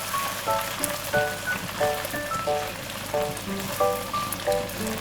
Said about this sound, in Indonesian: Ini saya goreng ikan keringnya.